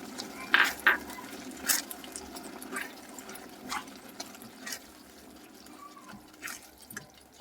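Vegetable Manchurian mixture of prepared balls, chopped coriander leaves, onion and garlic greens being worked together in a bowl at home: soft, irregular wet stirring and squelching clicks with a few sharper taps, fairly quiet and close, no talking.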